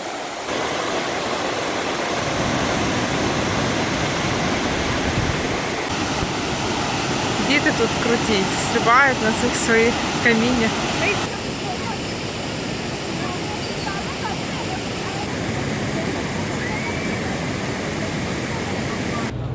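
Waterfall near San Cristóbal, Mexico, a loud, continuous broadband rush of falling water filling the whole stretch, with a person talking over it midway and faint children's calls in the background.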